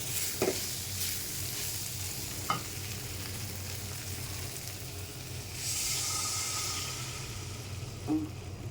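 Fried soybean chunks and potatoes hiss and sizzle steadily in a pan after water goes in, with a few scattered clinks of a spoon stirring, and a brief louder surge of sizzling partway through.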